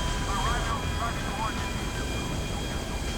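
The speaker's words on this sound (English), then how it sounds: "And Michael attempts to stabilize his plane when the engine is critically smoking." A plane's engine drones in flight in Grand Theft Auto V, its engine critically smoking, a loud continuous roar with faint whining tones rising and falling near the start.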